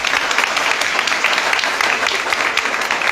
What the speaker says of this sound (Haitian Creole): nous battre un gros bravo pour Demoiselle Silaï.